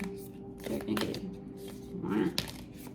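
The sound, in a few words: shuffling guardian angel oracle cards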